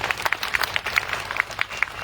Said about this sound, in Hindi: आप सब लोग जोरदार ताली से उनका